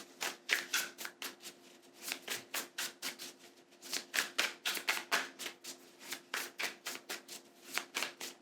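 Tarot cards shuffled by hand, rapid riffling and flicking bursts in quick irregular clusters, close and crisp with brief pauses between bouts and no speech.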